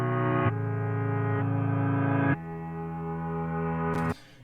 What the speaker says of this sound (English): You guys might notice that there's a reverse piano here as well.